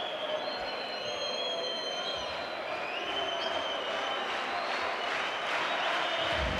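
A large crowd at a Bahamas versus Argentina basketball game during a FIBA Olympic pre-qualifying tournament keeps up a steady, loud roar of cheering and applause, with whistles and shouts rising above the sustained arena noise.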